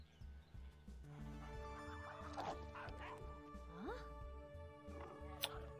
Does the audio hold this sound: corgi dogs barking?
yes